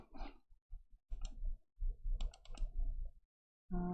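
Computer keys click close by in irregular bursts, quick runs of taps separated by short pauses.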